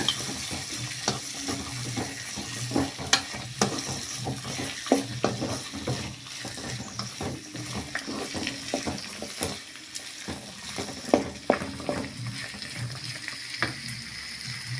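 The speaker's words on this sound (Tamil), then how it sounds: "பட்டாணி, கட் பண்ணி வச்சுருக்கிற கேரட்டு, பீன்ஸ் எல்லாம் சேர்த்துக்கலாங்க. சேர்த்துட்டு நல்லா வதக்கி விட்டுக்கலாம்" Peas, chopped carrot and beans sautéing in hot oil in a pan, a steady close sizzle broken by scraping stirs and clinks of a spoon across the whole stretch, with no talk.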